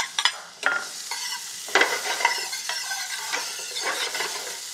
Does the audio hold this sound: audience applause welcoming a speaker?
no